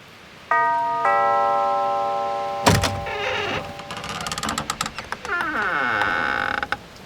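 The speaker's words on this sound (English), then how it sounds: "You ring the doorbell." A doorbell in the animated series Sea Monster Attacks and Devils of the Deep chimes twice, followed by a loud clunk and a burst of creaking, scraping mechanical noises.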